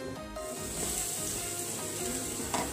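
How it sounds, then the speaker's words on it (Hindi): Chopped onions for paneer bhurji sizzling in a hot pan, a constant close crackling fry with faint stirring and a brief louder scrape near the end, no talking. "तो पहले मम्मी ने प्याज डाल दिए"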